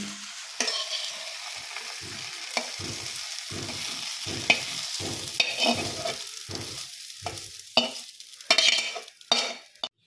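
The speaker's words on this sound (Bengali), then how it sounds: "পেঁয়াজগুলিটা আমার ভাজা ভাজা হয়ে এসছে আর একটু সামান্য নাড়াচাড়া করে আমি নামিয়ে দেবো" Onion sprouts and potatoes fry and are stirred in a pan, with a soft continuous sizzle broken by regular scraping strokes of a spatula. The strokes grow louder and more clattery toward the end, with no talk.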